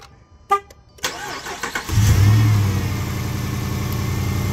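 A Jeep Commander with a Hemi V8 cranks and fires up, settling into a loud, steady running rumble close by after a few faint clicks and knocks at the start.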